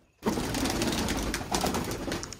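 Several pigeons caught in a net coo from close by, low throaty murmurs starting suddenly after a brief silence and continuing in overlapping waves, moderately loud, with no talking.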